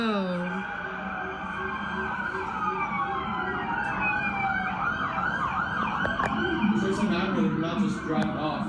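Police car sirens wail continuously at a street shooting scene with many cruisers present, the rising and falling tones overlapping and steady in loudness, with voices in the background.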